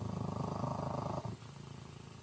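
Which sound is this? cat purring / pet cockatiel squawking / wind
cat purring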